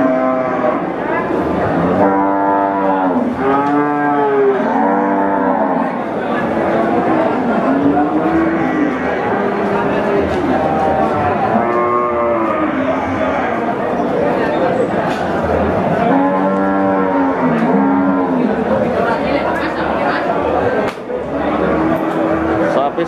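Limousin cattle low repeatedly in a busy market crowd in Wirosari, Central Java, the moos loud and close in several bursts over steady people chatter and talk.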